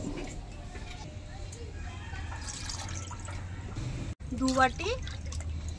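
Water is poured into a bowl of sugar to make sugar syrup for gulab jamun. A soft trickle and dripping run under a woman's nearby speech, ending in a short, brighter splash.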